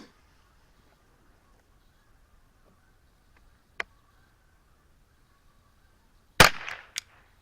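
Eley Team .22 LR rounds fired through a Ruger 10/22 rifle at an outdoor range: a few sharp, far-off reports separated by long quiet gaps, with one louder crack near the end and no talk.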